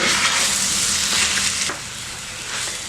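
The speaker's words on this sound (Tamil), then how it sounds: "இப்போ நல்லா வதக்கியாச்சு" Onions sauté in a pan with turmeric for shark fish puttu, making a loud, steady, close sizzle with a few soft stirring scrapes and no voices.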